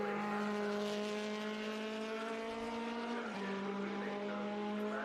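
A Lotus Super 7 race car drones steadily on track, its engine a loud sustained tone that dips in pitch partway through as it shifts or lifts, with a faint tire squeal.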